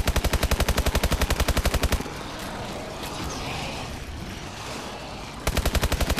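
Rapid automatic fire from a burst gun in the zombie shooter EXO Zombie, loud evenly spaced shots for two seconds, a rumbling lull, then the rapid shooting resumes near the end.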